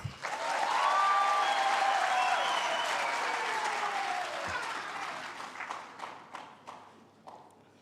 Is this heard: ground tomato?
no